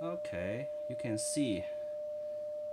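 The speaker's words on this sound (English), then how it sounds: "Let's shoot some tones." A steady, unbroken test tone received through an ICOM radio setup holds at one pitch for nearly three seconds, running at moderate level beneath a man's speech.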